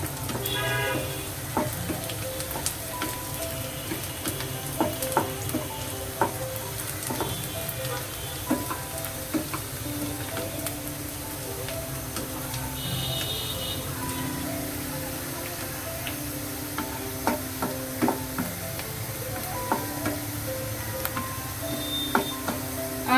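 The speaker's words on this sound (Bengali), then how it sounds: "বেরেস্তা ভাজার সময় যতদূর পারবেন সবসময়ের জন্য একটু নাড়তে থাকবেন।" Sliced onions sizzle steadily in hot oil as they fry into crisp beresta, with occasional scrapes and clicks of stirring over a continuous, fairly loud crackle.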